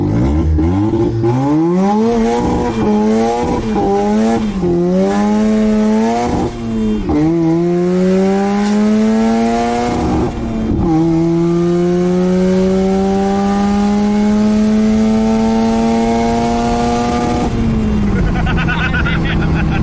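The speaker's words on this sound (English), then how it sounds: "A good clutch dump, a lot of limiter." A turbocharged Mazda 12A rotary car with a blow-through carburettor revs hard against the rev limiter, its loud buzzing note climbing in repeated stuttering bursts, then holding a long, steady bouncing limiter drone close by.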